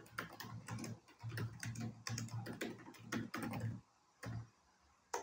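Fast typing on a computer keyboard with dense, quiet rattling keystrokes, a short pause, then a lone firm keypress like Enter and a final click.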